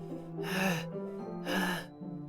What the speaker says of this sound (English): Sounds like breathing. Sharp inhale, like someone is sucking the air through their teeth.